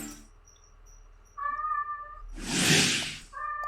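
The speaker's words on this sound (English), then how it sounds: "That's just my kitten in the background. He is playing with his favorite little toy, and he likes to meow when he plays with it." A kitten meows while playing with a toy indoors: a few short, close meows followed by a louder drawn-out cry, with faint steady background tones beneath and no speech.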